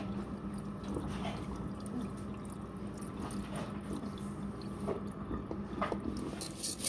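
Rice being rinsed by hand in a bowl of water, with soft wet swishing, squelching and small drips running continuously at close range and no talk.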